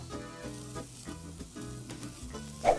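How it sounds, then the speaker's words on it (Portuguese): Onion and celery sweat in a pan for risotto, giving a soft continuous sizzle with light stirring scrapes, under a steady musical background with no speech. "A gente vai suar a cebola na panela"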